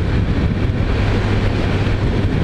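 Steady, loud wind roar buffets the microphone continuously while riding a small low-displacement 160 cc motorcycle, with a low engine rumble underneath.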